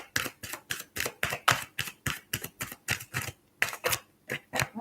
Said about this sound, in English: That's a long shuffle.